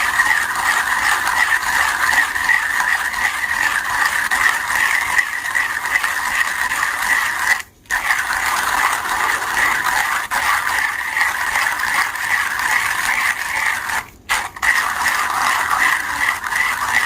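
A grinder set to 5.5 grinds hot-air-roasted Orange Bourbon coffee beans with a loud, steady whirring rasp that runs continuously, broken only by two brief stops.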